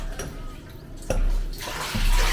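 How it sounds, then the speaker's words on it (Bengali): Water splashes and trickles as a large cloth is wrung out into a bucket while a water tank is being cleaned, a close, steady wet pouring that swells louder toward the end. "এই যে নিংড়ে বালতিতে জলটা তুলে নিচ্ছে"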